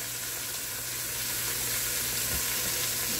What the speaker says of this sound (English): As you can see, I'm continuing to stir them on every side.